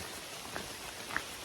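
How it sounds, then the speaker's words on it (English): Soft, steady rain patter with a couple of sharper drops landing nearby, fairly quiet and without voices. "So it's been raining"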